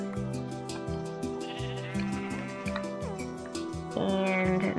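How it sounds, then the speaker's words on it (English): Minecraft sheep bleating repeatedly in a survival game, a series of wavering game bleats over steady in-game background music, with a louder, closer bleat near the end. "let me just get these two sheep here."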